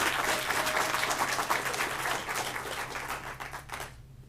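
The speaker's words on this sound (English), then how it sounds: "So one more round of applause for them." Audience applause for panelists and students at an educational forum, a loud, dense clapping that holds steady, then tapers off and stops abruptly near the end.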